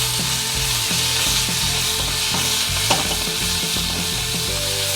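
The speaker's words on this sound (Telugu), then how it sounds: "ఆవాల్లో చిటపట్లు ఆడుతున్నాయి కదా, వేగిపోయాయి" Mustard seeds, green chilli pieces and coriander leaves fry in hot oil in a pan, a steady crackling sizzle with repeated stirring scrapes throughout, close and fairly loud, with no voices.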